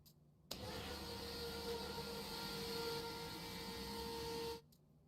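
An EMD diesel locomotive engine in Train Sim World 2 on the Clinchfield Railroad starts abruptly and settles into a steady droning hum with a constant tonal whine, then cuts off sharply near the end.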